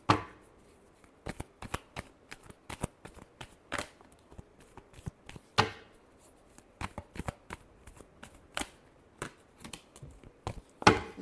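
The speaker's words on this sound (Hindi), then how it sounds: "Last shuffle." Playing cards are shuffled by hand close up in a quiet room, a long run of quick crisp riffling snaps and flutters in irregular bursts, with no talk over them.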